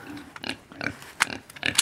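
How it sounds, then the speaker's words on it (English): A pig grunts in short bursts during a youth group Bible story about the lost son, the snorts and grunts spaced irregularly and fairly close, with no talk over them. "here you go, pig."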